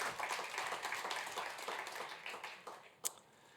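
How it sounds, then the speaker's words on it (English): An audience at a university innovation showcase applauds after a pitch: steady, moderately distant clapping that thins toward the end and is capped by one sharper clap. "Round of applause for Ahmed."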